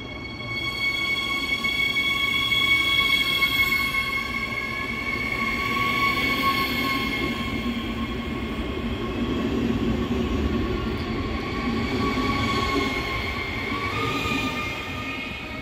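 Train pulling out of Karlsruhe main station, a continuous rumble of rolling wheels with sustained metallic tonal whines and squeals that slowly shift in pitch, steady and fairly near throughout.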